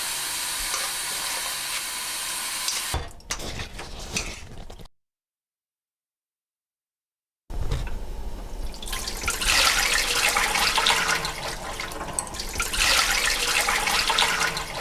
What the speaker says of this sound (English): Then we drain off hot water and rinse in cold water.